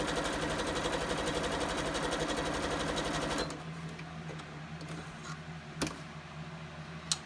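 A Janome sewing machine runs a test stitch, a loud rapid mechanical whir with fast ticking for about three and a half seconds, then stops, leaving quiet room noise and a couple of small clicks.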